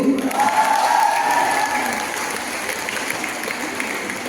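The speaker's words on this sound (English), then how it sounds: "Can we have a round of applause?" A crowd at an award ceremony applauds steadily for several seconds, loud and close, the clapping slowly thinning toward the end.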